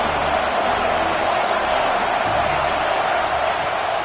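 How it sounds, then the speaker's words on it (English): A stadium crowd at a college football game, Washington against Oregon, roars in a steady, dense wash of cheering and noise that holds at a constant loud level throughout, with no distinct voices standing out. "This crowd knows when to bring it."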